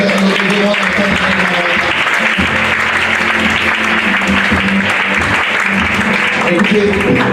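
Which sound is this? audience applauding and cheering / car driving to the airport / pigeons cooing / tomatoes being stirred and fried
audience applauding and cheering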